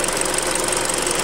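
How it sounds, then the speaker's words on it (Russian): A Hyundai Creta engine idles steadily up close, with the rapid, even ticking of its fuel injectors running through the hum. "вот цокот форсунок вот здесь, вот тут цокот форсунок"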